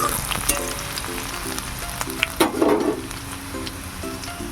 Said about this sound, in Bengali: এবার দিয়ে দেবো একটু আদা কুচি আর দেবো করে রসুন কুচি। এবার এটা আমি ভালো করে নাড়াচাড়া করবো একটু লাল লাল হওয়া পর্যন্ত।